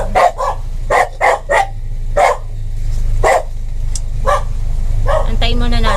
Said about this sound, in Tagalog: May umaatras kasi na sasakyan, kaya biglang nagtahulan yung mga aso.